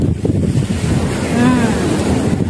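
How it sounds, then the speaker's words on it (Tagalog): Heavy surf crashes and roars continuously at the seaside in Sri Lanka, with gusting wind buffeting the microphone and a faint voice in the background. "Lakas ng alon guys, oh."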